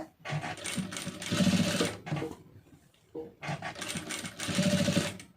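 A sewing machine stitches a plain blouse with fine, small stitches, running in two close whirring bursts separated by a short pause.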